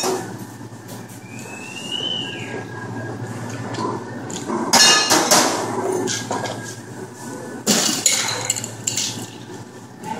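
A coconut mojito cocktail is shaken with ice at a restaurant bar, producing a few loud rattling bursts of ice over steady background room noise.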